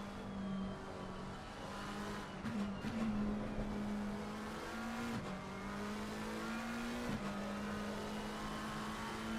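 A Ferrari GT race car in a Pro-Am class sim race in Assetto Corsa Competizione drones with a steady, loud engine note, shifting through gears with brief dips and rises as it holds pace just ahead of a rival.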